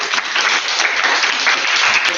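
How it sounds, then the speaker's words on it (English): Steady applause fills a Toastmasters club meeting, many hands clapping together at an even, sustained level for about two seconds with no voices over it. "please give a round of applause to our internal guest, Ms. Kai."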